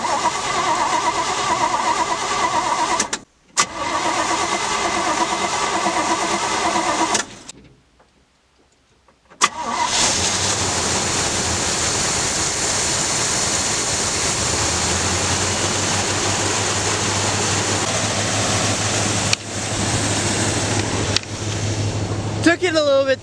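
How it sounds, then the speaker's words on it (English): A 1972 GMC Custom dump truck that had sat unused for two months cranks and fires up, its engine catching into a loud, steady rumbling idle with a low hum, preceded by a brief silence between attempts. "Took it a little bit to want to start."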